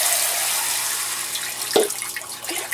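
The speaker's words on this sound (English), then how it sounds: "and then just start pouring your water through that." Water pours steadily through a colander lined with scrubby pads, a broad hissing rush close by with a few splashes and gurgles toward the end.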